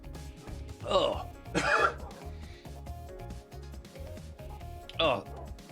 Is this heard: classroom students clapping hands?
no